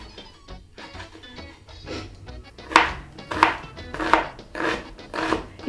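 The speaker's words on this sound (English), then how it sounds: "I'm going to chop up my onions, cut it in half." An onion being chopped with a knife on a board, a run of sharp, fairly close knocks that build into a quick, uneven rhythm of about half a dozen firm strokes, with no talking.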